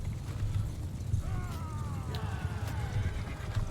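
Cavalry horses gallop in a charge during a Mount & Blade 2 Bannerlord battle, a muffled drumming of hooves with distant clashing and faint calls layered over it, fairly quiet throughout.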